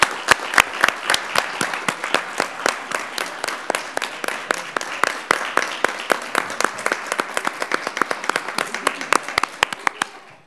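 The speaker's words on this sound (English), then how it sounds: "join me in a round of applause for all of the teaching staff around Rocklin Unified" A crowd at a school district board meeting claps for teaching staff, with sustained, dense applause throughout that is loud and steady before thinning slightly toward the end.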